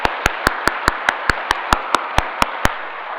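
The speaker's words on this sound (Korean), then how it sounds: "큰 박수 부탁드리겠습니다." Slow, evenly spaced rhythmic clapping, about a dozen sharp claps at a steady beat, from the audience at a Daegu commemoration service and reenactment of the March 1st independence movement.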